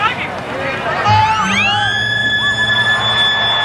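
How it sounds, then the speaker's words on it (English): A full-time siren at a 1991 rugby league match between Canberra and Parramatta, a rising, wailing tone that swells over crowd noise and is partly covered by a commentator's talk. "Really praying for that siren."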